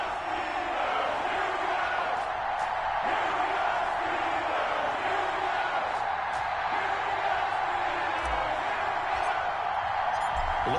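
Stadium crowd noise from an EA Sports NFL football game, Los Angeles Rams at Pittsburgh Steelers, a steady dense roar of cheering fans with scattered whoops, continuous and fairly loud throughout.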